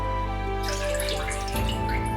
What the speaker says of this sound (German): Wir geben 300 ml Kochflüssigkeit in die Pfanne,